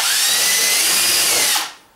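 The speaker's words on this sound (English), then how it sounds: "take your drill with your 17/64 drill bit and drill the holes" A power drill fitted with a 17/64 bit bores through the roof of a Polaris RZR 1000 UTV, whining loud and steady up close for about a second and a half before winding down and stopping.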